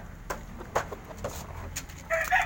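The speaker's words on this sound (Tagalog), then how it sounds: "alaga namin manok." Pet backyard chickens cluck in short, scattered bursts. The sound is faint and fairly distant over a low outdoor background, with louder calls near the end.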